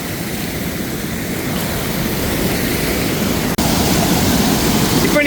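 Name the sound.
water flowing down the steps of the Chithirai Chavadi dam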